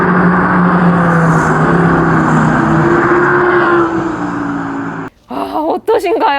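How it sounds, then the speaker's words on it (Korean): An Audi R8 with a naturally aspirated V10 and a very large muffler idles and revs, a loud steady exhaust drone with rising pitch, then cuts off before a short burst of talking. "자, 이 배기음 소리 잠시 들려드릴게요."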